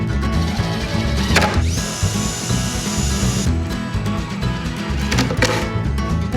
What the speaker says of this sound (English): Now what you want to do is drill in from the bottom of our bottom shelf into the bottom of our side shelf.